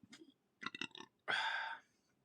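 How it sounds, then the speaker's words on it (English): A single drawn-out burp from a man tasting homebrew beer, loud and close, following a few soft mouth and swallowing noises in an otherwise quiet room. "Sorry, I've got a bit of a burp coming here."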